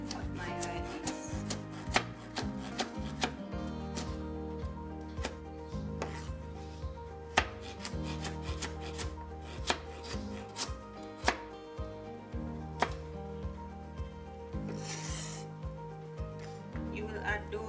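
A knife chops vegetables on a cutting board for vegan pumpkin soup, with steady close rhythmic knocks and occasional louder strikes throughout.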